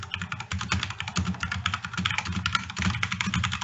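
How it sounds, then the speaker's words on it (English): Rapid, continuous clatter of keystrokes on a computer keyboard during a Magic: The Gathering Pauper tournament stream, close and steady with dense irregular clicks and no talk. "I hope you guys like the sound of my keyboard."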